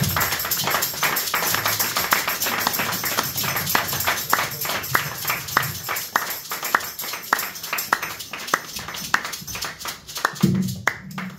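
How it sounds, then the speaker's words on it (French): Congregation applauding in church, a long run of regular rhythmic claps that sounds like steady, even tapping, loud and close, carrying on for several seconds with some voices faintly underneath. "On applaudit très très très fort pour la gloire de notre Dieu."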